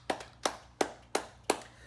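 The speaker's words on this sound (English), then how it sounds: "Give him a round of applause, please." Single pair of hands clapping five times at an even, slow rhythm, each clap crisp and close with a short decay and quiet between.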